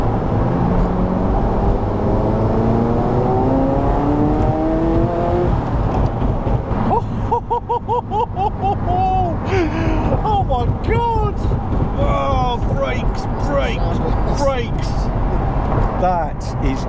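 A Ferrari F40 engine revs hard and climbs through the gears, loud and close, with sharp rising pitch sweeps as it accelerates along a straight road.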